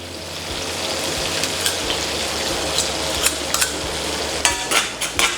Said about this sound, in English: Give that a quick mix up and we'll leave that stir fry there for a couple of minutes.